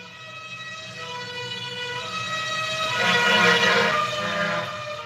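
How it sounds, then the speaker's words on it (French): A fire truck siren wails as the engine passes, its harmonic tone swelling louder toward the middle and then easing off, alone without talk. "Il est où le camion? Ah, là, les pompiers."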